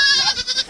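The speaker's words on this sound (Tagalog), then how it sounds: "Dinagdagan ko po yung kambing dito sa sitio." A goat at a rural settlement lets out a loud, wavering bleat with a few trembling pulses, close to the listener and heard on its own.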